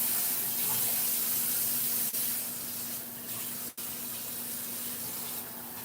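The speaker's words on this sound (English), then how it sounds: "I'm gonna wash my hands again" Kitchen tap water running steadily into a sink during hand washing, a continuous even spray with a faint hum beneath and one brief interruption near the end.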